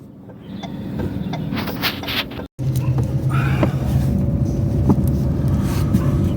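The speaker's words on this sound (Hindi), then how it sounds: "अब यहाँ क्लच दबा लीजिए, ब्रेक लगा लीजिए, गाड़ी एक राउंड मोड़ लीजिए" A car turns a full circle during a driving lesson while the driver works the clutch and brake. Steady engine and road rumble continue under talking, broken by one brief dropout.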